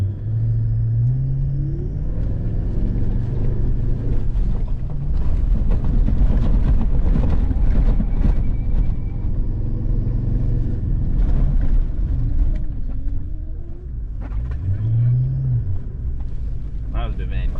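A 4WD vehicle with lowered tyre pressures drives over coastal sand dunes, its engine a steady low rumble with revving surges and wind buffeting the microphone throughout.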